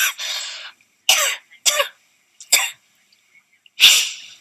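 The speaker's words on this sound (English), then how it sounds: "talking about that even makes me sick and cough more" A series of harsh, close coughs, five or six bursts separated by short silences, the last one loud and forceful.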